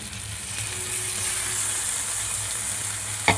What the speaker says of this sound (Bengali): এই যে মশলা কষানো হয়ে গিয়েছে, এবার মাছগুলোকে আমি দিয়ে দেব।